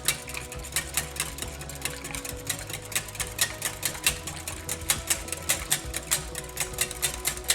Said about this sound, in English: All right, we'll just whisk that up till it's all fully incorporated.